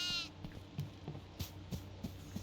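A goat in the horror game Devour gives a short bleat, followed by a series of soft, evenly spaced low thumps over a steady hum.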